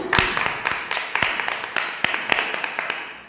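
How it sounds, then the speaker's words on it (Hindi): Welcoming applause from a church prayer gathering, heard as a string of sharp, fairly sparse hand claps at a moderate distance with no talk over them. "परमेश्वर पिता के जोरदार तालियों से स्वागत करते हैं"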